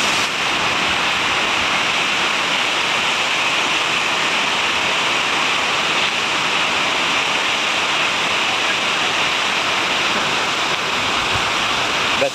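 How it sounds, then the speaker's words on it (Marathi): A waterfall thunders down close by, its steady, dense roar of falling water filling the scene without a break and with no talk over it. "धबधबा जो वरतून पडतोय खाली, त्यातून जे पाणी पडतंय ना, ते पूर्ण अंगावर येतंय"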